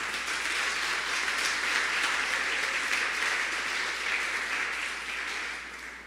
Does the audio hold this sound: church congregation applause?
yes